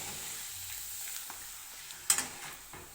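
An urad dal papad frying in hot oil gives a soft, steady sizzle with a brief sharper crackle partway through, close and fairly quiet.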